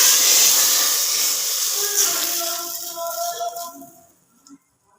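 Hot browned tadka poured onto garlic and spices erupts in a loud, bright hiss of sizzling oil that slowly subsides into softer crackles before stopping.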